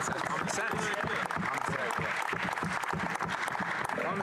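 Audience in the House of Commons applauding, sustained dense clapping at moderate level with voices mixed in throughout.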